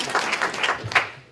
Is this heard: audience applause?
yes